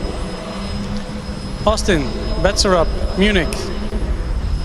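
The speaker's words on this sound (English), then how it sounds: "ventilators, the fans on the Munich car." Cooling fans on the Munich team's Formula Student race car at the skid pad give off a steady, ominous whine and hum beneath a commentator talking over the top.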